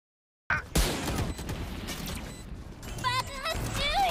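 Gunfire in the Valorant tactical shooter, with bursts of shots and impacts amid game effects and electronic chirps, loud and close, overlapping voices speaking during a round.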